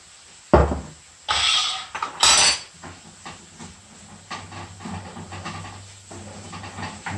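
Curried mince seasoned with black pepper and salt, for a vetkoek filling, browning in a pan: a few sharp hissing bursts give way to a steady, quieter sizzle close by.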